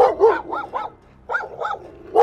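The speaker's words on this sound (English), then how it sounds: "the infamous dock dog" A dog on a lake dock barks close and loud in quick clusters of sharp woofs, a short pause breaking the run before more barks follow.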